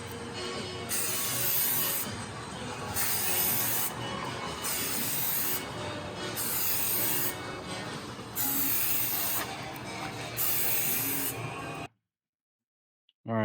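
Bursts of spray paint hiss from a can as OD green is coated onto an airsoft gun, several close, steady sprays separated by short pauses before abruptly cutting to silence.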